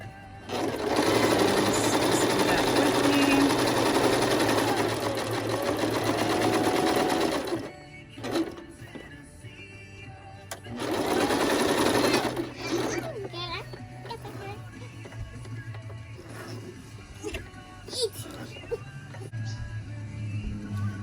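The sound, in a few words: sewing machine stitching fabric for a doll's head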